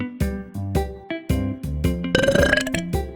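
A person burps several times in short, loud bursts, with a brief tonal jingle running alongside.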